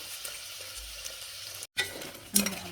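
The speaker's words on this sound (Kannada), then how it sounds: "ಒಂದು 15 ನಿಮಿಷ ಆಲೂಗಡ್ಡೆ ಫ್ರೈ ಮಾಡ್ಕೋಬೇಕು." Medium-cut potatoes frying in a tempering of oil in a pan, a soft continuous sizzle with stirring clatter, a brief gap, then louder scraping spatula strokes near the end.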